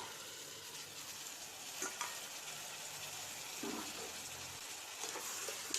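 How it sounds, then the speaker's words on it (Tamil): Soaked black chickpeas hit a sizzling onion-tomato masala in a pan, giving a steady loud fry with a few sharper crackles and stirring scrapes, no voices. "இப்போ ஊறின கடலையை சேர்த்துடலாம்"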